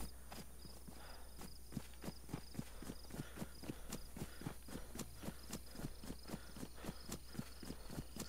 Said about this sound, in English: Wasn't a bear I was hearing, it was a fucking cow.